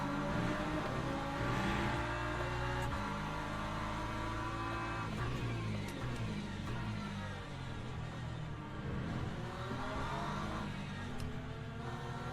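LMP3 race car in the Le Mans Ultimate racing game on a rainy multiclass track, engine note revving continuously with rising and falling pitch sweeps, steady and moderately loud with faint other cars underneath.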